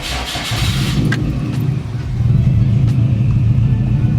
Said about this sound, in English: Well, that was a rough start.